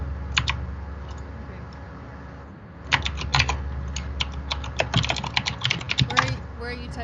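Typing on a computer keyboard during a Python coding session, heard as close, crisp key clicks in short irregular bursts with brief pauses between them.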